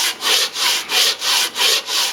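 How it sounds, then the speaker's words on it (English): Sandpaper is rubbed by hand over a metal milling table during restoration, making steady rhythmic back-and-forth scraping strokes, about six in two seconds, loud and close. "Just got a piece of sandpaper in here, and I'm just going to keep working at it"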